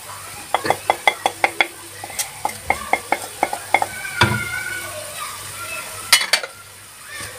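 A utensil clinks rhythmically against a pan while carrots with garlic fry, a quick run of sharp metallic taps over a soft, steady sizzle, followed by scraping and a couple of louder clanks near the end.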